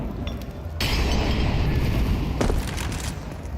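Mag 7 shotgun blasts from Counter-Strike at a pro tournament match, two loud booming shots about a second and a half apart over a constant rumbling game background.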